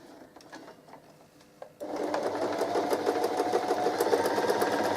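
A sewing machine stitching a half square triangle quilt block starts up after a couple of seconds of quiet ticking and then runs steadily and fast, a close, even mechanical whirr.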